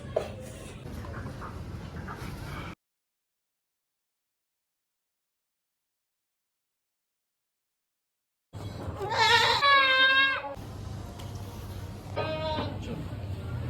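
Goats in a farm pen bleat in loud, quivering cries while being caught for an injection against skin worms. The first stretch carries noise and talk, then after a silent gap come several strong wavering bleats mixed with handling noise and voices.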